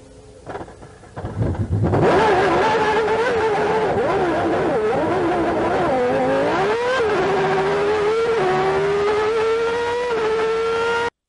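Senna's crashed race car with a bent nose cone, pushed by marshals to jump-start, firing back up and revving hard, a loud rising engine note that climbs and shifts continuously after a brief quiet start.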